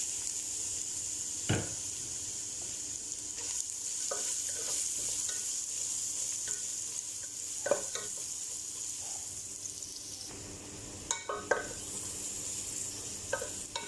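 Carrots fried in a pan with browned ingredients while making Arabic rice. A steady low sizzle runs throughout, broken by scattered close scrapes and knocks of a spatula stirring, loudest around the middle and near the end.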